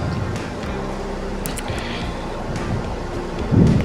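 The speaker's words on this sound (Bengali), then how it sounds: "জলটা যতক্ষণ না পরিষ্কার বার হবে ততক্ষণ পর্যন্ত কিন্তু মুগ ডালগুলোকে ভালো করে ধুয়ে নিতে হবে" Water running and splashing steadily while mung dal is rinsed in a kitchen, a continuous wash of noise with a brief louder slosh near the end.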